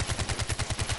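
Rapid automatic gunfire from a long-range weapon in Far Cry 4, about ten evenly spaced loud shots in one burst lasting around a second, heard alone without talk.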